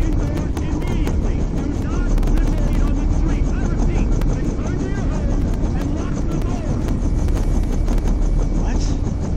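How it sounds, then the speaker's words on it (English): A helicopter in the Condemned 2 video game gives a steady, loud, whooshing drone with faint rhythmic chopping. The sound holds throughout, with voices speaking over it. "Hello, Mr. Helicopter!"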